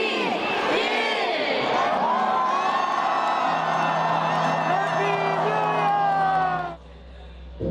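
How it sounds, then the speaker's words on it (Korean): A huge street crowd of around a hundred thousand people cheers and whoops at Gwanghwamun on New Year's Eve, a loud sustained roar with shouts rising above it before it cuts off near the end. "환호가 터져나오고"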